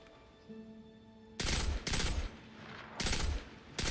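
A pulse rifle in the Destiny 2 video game fires three loud, sharp bursts in a row, each a short rapid cluster of shots over a faint hum of game ambience.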